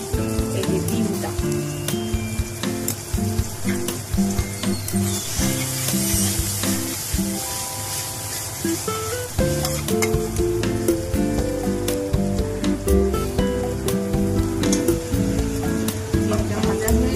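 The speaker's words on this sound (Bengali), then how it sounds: "ডিমটা ভাজা হয়ে গেছে।" Beaten egg fries with a bright, steady sizzle in a pan with carrots, chillies and peas for egg chow mein, stirred now and then with scraping spatula strokes, close and loud, no voices.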